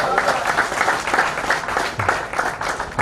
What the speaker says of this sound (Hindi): big round of applause for all of us